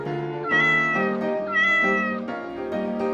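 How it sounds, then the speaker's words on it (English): A cat meows loudly and clearly in a series of drawn-out, harmonic cries, several distinct meows in quick succession, close to the microphone with no talking. "What does a cat say? Meow, meow."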